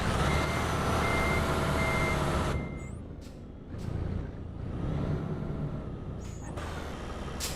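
Vehicle brakes in a transport video game: a loud truck engine with steady reversing beeps cuts off into a sharp brake hiss, followed by quieter airy releases and a softer engine rumble.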